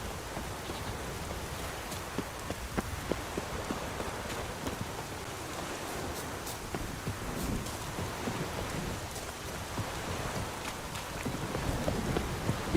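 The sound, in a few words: rain and thunderstorm in The Witcher video game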